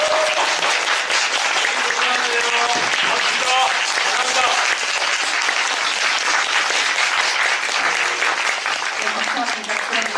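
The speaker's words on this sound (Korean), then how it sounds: "오늘 자리에 함께 해주신 배우 여러분께 다시 한번 큰 박수 부탁드리겠습니다." An audience at a post-show talk for the play Kiss of the Spider Woman claps for the actors, loud sustained applause from a large crowd that carries on steadily with only slight dips in intensity.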